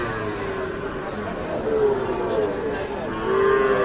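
Calves moo in drawn-out calls at Ambari cattle market, one low bellow near the middle and another toward the end, over a steady murmur of crowd noise.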